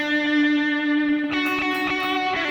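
Electric guitar played through the overdrive setting of a Kemper Profiler Player, loaded with delay and reverb: sustained distorted chord that shifts to new notes midway, with echo repeats trailing behind, steady and close.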